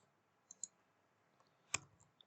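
Soft computer mouse clicks sound while working in Revit: a few faint taps followed by one sharper, clearer click, all quiet and close in an otherwise silent room.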